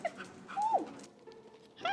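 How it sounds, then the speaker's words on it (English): A dog comes over and whimpers outdoors, giving a few short, high, thin whines, close and fairly quiet, with no talk during the sounds. "Dog coming over here."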